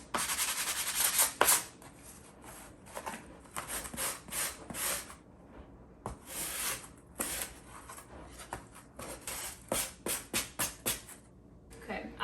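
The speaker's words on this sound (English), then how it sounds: "I'm gonna start by first sanding these down a bit" Repeated rasping strokes of a 220-grit sanding block rubbing against wood, irregular bursts with short pauses between them, close up.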